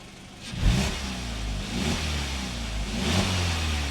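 A VW Golf 5 fitted with an ABC exhaust valve system revs in short bursts, its mid-pitched engine note rising and falling with a deep exhaust rumble, close and loud with no talking.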